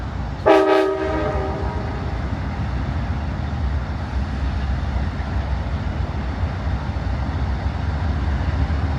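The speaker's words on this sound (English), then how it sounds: "where you can sit and watch the train roll in" A California Zephyr train horn blasts once briefly, followed by the steady rumble and clatter of the train rolling past nearby at Glenwood Springs, Colorado.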